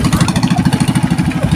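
A racing boat's engine, fuelled with a gasoline and methanol mix, runs close and loud with a fast, even, throbbing pulse that holds steady through the short stretch.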